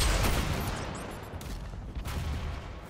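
A rocket launcher fires in a multiplayer match of the DOOM beta on Xbox One, a loud, broad blast that decays into rumbling explosions and scattered gunfire.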